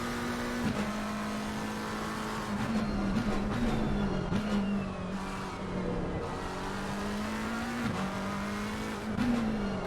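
A McLaren race car drifting around the Silverstone circuit, its engine holding a steady, loud drone that rises and dips as it shifts, with hints of tire squeal and no talking.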